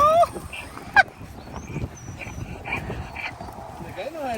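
Geese or fowl at a dairy farm give a few brief honks and squawks, the loudest near the start and around one second in, over a busy background of people talking and moving about.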